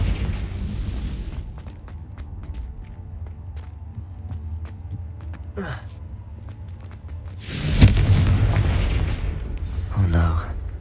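Confringo blasting spell explosions in Hogwarts Legacy, a loud burst around the middle followed by a second blast, over a low rumbling background with scattered crackles and clicks.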